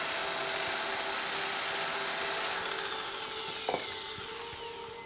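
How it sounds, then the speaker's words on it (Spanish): A polishing machine spun up to maximum speed buffs brass coated with brown polishing paste, producing a steady high-pitched whirring hum with a brief scrape of contact near the end. "Subimos las revoluciones al máximo para poder quitar todos los tallones."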